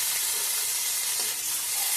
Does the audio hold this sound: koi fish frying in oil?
yes